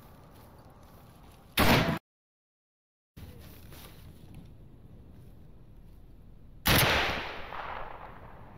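Gunfire in the shooter STALKER Anomaly, two loud sharp bursts of shots, one early and one later, separated by a moment of total silence, over a quiet low ambient background with no talk.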